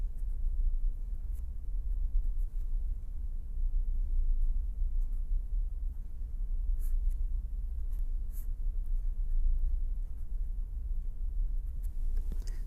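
A pen or marker scratches steadily as an equation is written out during a lecture on wave propagation in beams, a low continuous scrawl with a few faint clicks and no voice.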